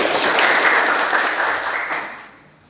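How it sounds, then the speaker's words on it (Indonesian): A short burst of applause from a small group, a broad patter of clapping that stays steady before fading away toward the end. "Iya, tepuk tangan Pak."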